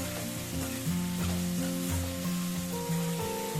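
Onions, five of them, sautéing for tomato thokku: a steady sizzle and crackle in the pan with faint stirring scrapes, close and continuous, with no one talking.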